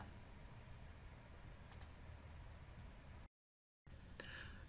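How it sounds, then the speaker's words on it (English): A quick pair of mouse clicks on a button in TRACE 700 HVAC equipment software, sharp and close against a faint low room hum, followed by a brief gap of silence. "click on the Generate button"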